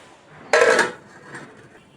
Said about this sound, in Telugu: సో మూత పెట్టేద్దాం.